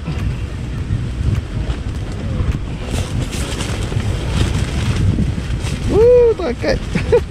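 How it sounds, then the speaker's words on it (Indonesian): Strong monsoon wind buffets a beach campsite with a camping tent, a steady broadband roar and microphone rumble throughout with surf-like washes, rising into a louder gust near the end. "Angin kuat."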